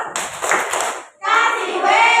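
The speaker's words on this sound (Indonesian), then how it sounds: "Tepuk wow dulu ya. Tepuk wow." A group performs a rhythmic 'tepuk wow' clapping chant: close hand claps mixed with chanted voices, in two loud bursts separated by a brief pause.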